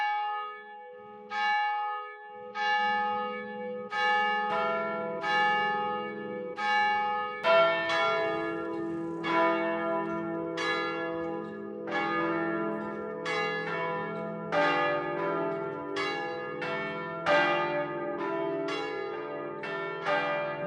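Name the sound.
church bells ringing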